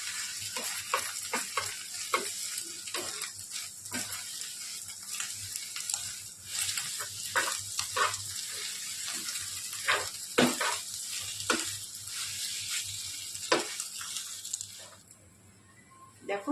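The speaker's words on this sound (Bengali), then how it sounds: "এবার ডিমটাকে এরকম এরকম করব যাতে ঝুড়ো ঝুড়ো হয়। খুব আস্তে আস্তে প্রেস করতে হবে।" Egg scrambling in oil in a frying pan, a soft continuous sizzle broken by repeated scraping and pressing taps from a utensil, close by and fairly quiet, ending in a calmer hiss.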